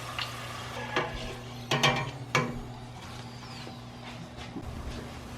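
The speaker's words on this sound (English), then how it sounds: "So when they're pretty crispy, take them out with your ladle, spoon, and try to separate them so that they dry." Chips frying in oil while a ladle or spoon stirs and lifts them out, giving a soft sizzle beneath several sharp clinks and scrapes against the pot, close and moderately quiet, with no talking.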